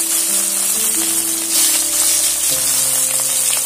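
Pieces of rui fish sputter in hot oil one after another, making a loud, hissing sizzle with music playing softly underneath.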